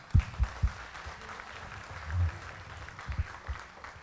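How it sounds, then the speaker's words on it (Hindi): Faint, distant applause from a student audience at a coaching institute's toppers' talk show, with soft scattered clapping and a few low thumps. "तो सबके लिए एक बार पहले जोरदार तालियां।"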